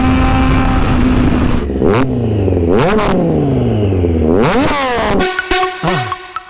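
A 2020 Triumph Street Triple RS with a CR Racefit Extreme exhaust revs hard and loud nearby, with rising and falling throttle blips that climb sharply in pitch before a crackling, popping deceleration.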